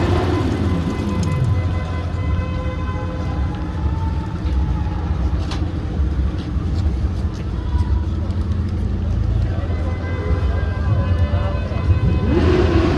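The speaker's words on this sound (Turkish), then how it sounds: "motosikletlerle ses yapıyorlar" Constant roar of motorcycle engines and traffic on the Champs-Élysées during a protest, with revving that rises in pitch near the start and end, voices mixed faintly into the din.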